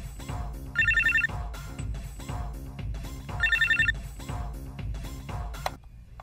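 A telephone rings in two repeated electronic trill bursts, loud and close, separated by a pause, over low background hum with no talk.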